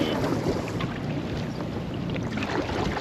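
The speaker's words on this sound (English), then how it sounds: "I was just going to battle the wind the whole way." Strong wind buffeting a kayak on Alouette Lake, a loud, continuous roar with gusty swells and broadband rushing noise, no voices.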